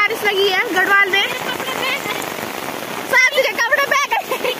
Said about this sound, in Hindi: देखो गाइस यहाँ क्या बारिश लगी है गढ़वाल में